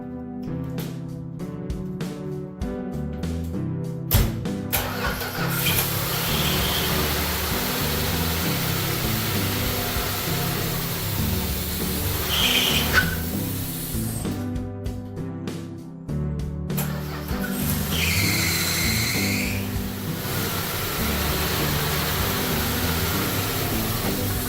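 A 1964 Dodge Dart with an engine that will barely idle runs with a steady, rough broadband roar for most of the clip, opening under a layer of tonal, music-like sound.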